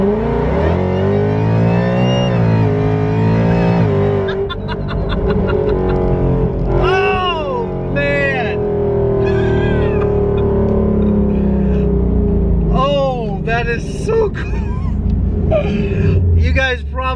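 Ford Mustang fitted with a VMP Odin supercharger with a whine mod, loud close exhaust roaring through repeated revs and accelerations, with a high supercharger whine rising and falling, and someone talking over parts of it.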